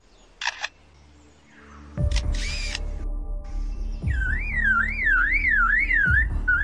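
An Australian mimic bird copies mechanical sounds: quick camera-shutter-like clicks, then a loud, near, warbling, rising-and-falling tone like a car alarm that repeats in a steady cycle.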